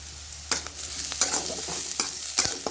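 Chopped onion frying in oil with salt, a steady sizzle under spoon-stirring scrapes that come in short bursts through the pan, close and moderately loud, with no voices.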